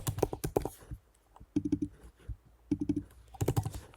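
Login details are typed on a computer keyboard while installing WordPress: short clusters of close, crisp key clicks separated by brief gaps. No speech is heard.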